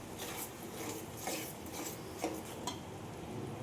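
Soft scraping and clinking of a spoon stirring fish curry ingredients with spices in a pan, a quiet, irregular series of rubs and taps with no talk.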